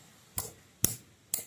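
A hammer taps three times on a pressure washer part, evenly spaced sharp metallic knocks heard close with no voices.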